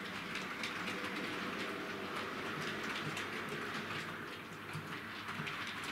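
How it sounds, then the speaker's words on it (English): A model Britannia Class steam locomotive, Oliver Cromwell, runs along its track with a continuous, fairly faint rattling clickety-clack of wheels over rail joints, no voices heard. "I hope you enjoyed seeing this locomotive run"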